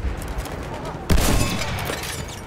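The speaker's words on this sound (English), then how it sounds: "Ah, I just got killed by a fucking shotgun." A Battlefield 1 shotgun blast in multiplayer lands as one sudden, loud close boom, then a sustained rumbling tail over earlier low background battle noise.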